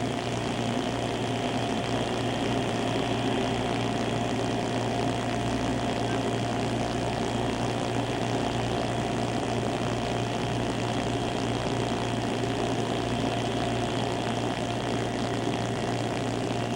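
Propeller aircraft engine drones steadily in flight, a loud, continuous hum with a constant low tone and no breaks for the whole stretch.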